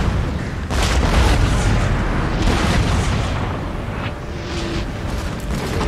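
Heavy cannon artillery booms and rumbles through a Napoleon: Total War battle, a dense, continuous wash of low blasts and crackling fire with no voices over it.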